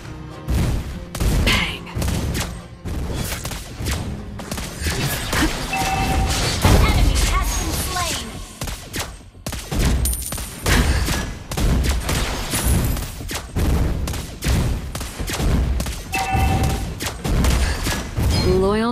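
Dense gunfire from the mobile game Mobile Legends, with Lesley's sniper shots cracking among rapid bursts, booms and crashes of game effects, loud and continuous, with spoken game voice lines over the action.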